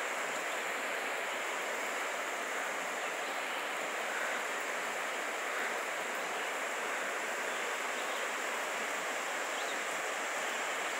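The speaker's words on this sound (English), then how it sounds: "There's a creek." A creek running through the back of a rural property after light rain makes a steady broadband rush of flowing water, continuous and even throughout, with no voices.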